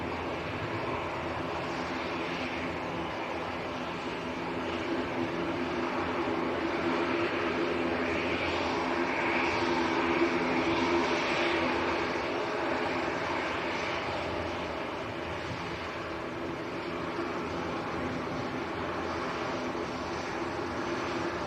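A Brussels Airlines jet departs Manchester Airport, its engines a steady broad roar that holds at moderate distance for the whole stretch, swelling slightly near the middle before easing back.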